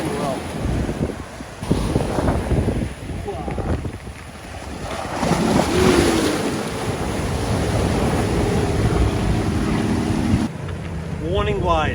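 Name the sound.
ocean wave on the sea from a fishing boat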